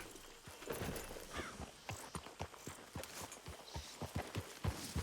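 Horse hooves clip-clop in a steady walking rhythm on a hard surface, fairly close, with no talking.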